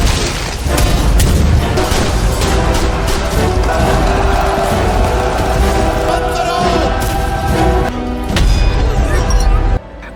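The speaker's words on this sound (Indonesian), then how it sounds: "Vasco pun memerintahkan nembakin meriam" Heavy booming blasts and crashing roll on continuously, loud and dense, a sustained barrage of cannon fire from Portuguese forces against a fort, with chaotic rumbling throughout.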